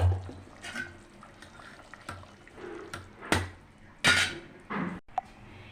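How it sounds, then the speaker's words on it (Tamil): Drained basmati rice tipped into a pot of boiling water for egg biryani, heard as a few short splashing, clinking bursts over a low bubbling background, with no one talking. "இப்போ தண்ணி நல்லா கொதிக்குது. இப்போ நம்ம பாஸ்மதி அரிசி சேர்த்துக்கலாம்."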